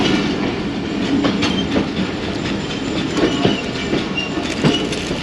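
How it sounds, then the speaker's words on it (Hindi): The Jaffar Express rolls along a single-track line in winter sunshine, a loud, close rumble with repeated clickety-clack wheel beats and sharp rail clicks; no speech. "दोनों ट्रेन्स मूव कर रही हैं।"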